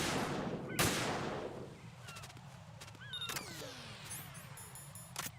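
Gunfire aimed at a cipher drone in Metal Gear Solid 2 on very easy difficulty: a few sharp, loud shots spaced seconds apart over a steady background of game ambience and music, with no talking.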